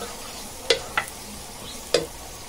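Mutton pieces browning in masala in a pot, heard as a few sharp scrapes of a spoon against the pan over a quiet, low sizzle, with three distinct stirring strokes and no talk.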